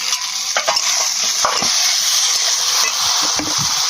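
Vegetables sautéing in a pan for a tilapia curry, a loud continuous sizzle with intermittent spatula scrapes and stirs, close up throughout.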